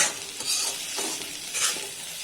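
Bitter gourd and plenty of onion being stirred in a hot pan, giving a steady soft sizzle with a few louder scraping strokes of the spatula, close up and with nobody talking.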